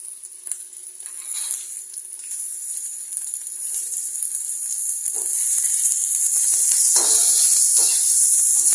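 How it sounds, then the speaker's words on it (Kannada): Garlic and raw peanut pieces fry in hot oil, giving a loud, continuous close sizzle that swells steadily over several seconds, with occasional light stirring clicks. "ಫುಲ್ ಗೋಲ್ಡನ್ ಬ್ರೌನ್ ತನಕ ಫ್ರೈ ಮಾಡ್ಕೊಳ್ಳಿ."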